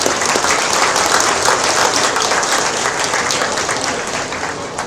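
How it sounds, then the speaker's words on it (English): Loud, sustained applause from the crowd at a steer show for young cattle exhibitors, dense clapping holding steady and tapering slightly near the end. "give these young individuals a big round of applause"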